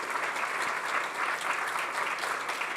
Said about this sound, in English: We're applauded.